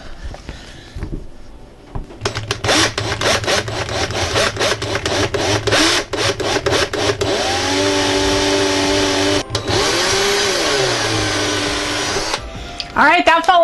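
A cordless drill whirs loudly and steadily, its motor pitch rising and dipping as it drives screws into wood during an RV renovation, with brief pauses between bursts.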